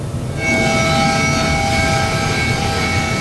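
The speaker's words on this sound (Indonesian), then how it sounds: "tim gabungan juga mengerahkan 1 unit helikopter untuk memaksimalkan pencarian dari udara" A search and rescue helicopter flying over the burning KMP Mutiara Sentosa II ferry, its loud steady engine and rotor roar swelling in after a brief quieter start and then holding close and constant.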